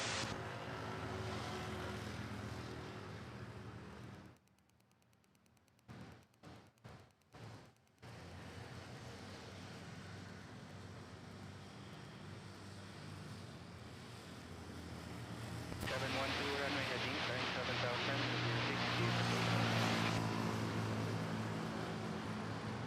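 A Mandarin Airlines Boeing 737-800 takes off at Manila Airport, heard as a broad jet roar that fades and breaks up in the middle, then swells louder and fuller toward the end over steady wind noise.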